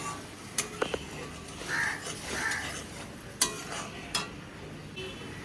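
Cumin and chili paste fries in a pan, a soft sizzle with intermittent stirring scrapes and sharp utensil taps, fairly quiet and close, no speech.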